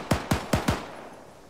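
Four rapid gunshots in the Town Patrol video game, sharp and close, in a quick burst lasting under a second before fading into quiet.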